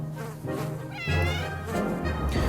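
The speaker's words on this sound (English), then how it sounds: "No, it was a cat." A cat in the survival video game 60 Seconds! Reatomized meows in a drawn-out, wavering cry that swells louder midway, heard clearly over a steady low background hum with no talking.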